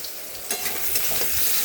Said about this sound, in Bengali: এখন এটাকে আমি ভালো করে মশলাটাকে ভেজে নেব